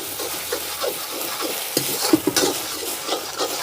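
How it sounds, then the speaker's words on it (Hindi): Spiced rice paste sizzles and sputters in a hot pan while a spoon scrapes and stirs it in a steady rhythm, with a few sharp pops. "अब मैं इसमें डाल दूंगी ये चावल का पेस्ट और इसको भी अच्छी तरह से मिक्स कर लेंगे"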